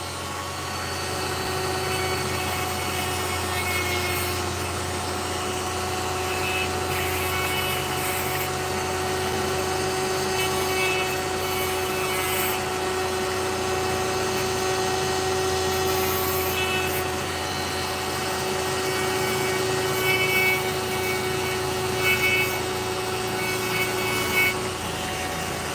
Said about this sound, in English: just dremel it a bit